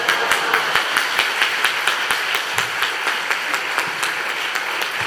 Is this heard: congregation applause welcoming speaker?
yes